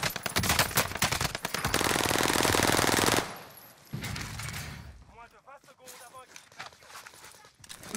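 Gunfire in the video game Call of Duty on Rebirth Island, a loud sustained automatic burst lasting a few seconds, then quieter scattered shots, footsteps and game sounds with a player talking.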